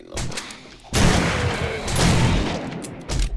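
Shotgun fire in the video game 7 Days to Die, a loud close blast with rumbling tail that starts about a second in, followed by further dense game noise.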